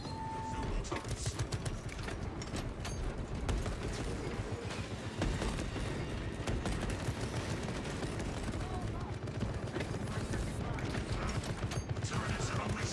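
Turret guns firing in the Space Marine 2 game, a dense, continuous barrage of rapid gunfire and mechanical clatter that stays loud throughout with a speaking voice over it.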